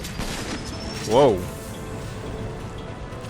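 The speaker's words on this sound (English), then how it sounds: "That was quite the explosion just now." Sci-fi combat from the video game Mass Effect 2: a steady wash of gunfire and a blast rumble, with one voice briefly exclaiming over the din.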